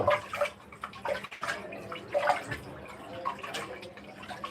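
Small fish are washed in water, a soft, uneven splashing and sloshing close by with brief gurgles and drips throughout.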